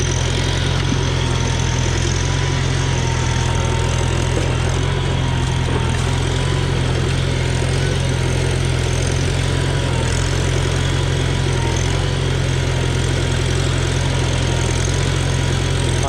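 Farmall Super C tractor engine chugging steadily while pulling a plow through hard ground, a loud continuous low engine rumble with no talk.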